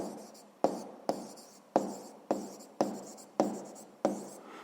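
A pen strikes and writes on paper, seven sharp separate strokes in a slow, uneven rhythm, close and alone.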